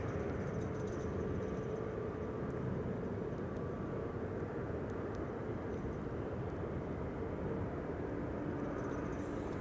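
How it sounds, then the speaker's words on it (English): A KLM Boeing 787-10 Dreamliner airliner departing Amsterdam Schiphol for Bangalore produces a faint, distant, steady jet roar that holds evenly throughout. "KLM flight 879 to Bangalore, 78710 Dreamliner"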